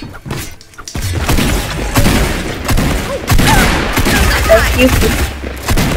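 Rapid bursts of Fortnite video-game gunfire crackle and thump across the clip, dense and fairly loud, with a few short exclamations from players over the shooting.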